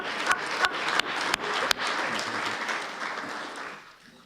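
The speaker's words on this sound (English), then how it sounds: "Give yourselves a round of applause" A church audience at a fiftieth-anniversary celebration claps together in a dense, loud burst of applause, with a few sharper claps standing out, before it thins and fades away.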